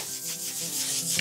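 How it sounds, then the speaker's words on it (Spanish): A guitar nut is rubbed back and forth on sandpaper laid over a marble base, giving a steady close gritty scraping with soft strokes and no speech. "tenemos una base, en este caso es mármol, con distintos granos de lija, y que vamos a utilizar para darle grosor a la cejuela."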